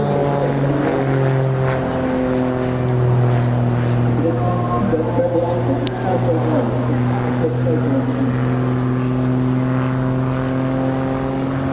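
At the Eastbourne airshow, a Grob Tutor propeller trainer gives off a steady, droning engine and propeller hum as it flies, with announcer talk mixed over it throughout.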